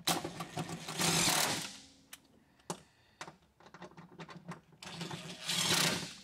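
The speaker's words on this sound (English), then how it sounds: "I'm just going to go ahead and tighten the other bolts." Bolts are tightened on a Toyota Prius V hybrid battery, with close mechanical whirring bursts at the start and end and a run of sharp clicks and taps between them.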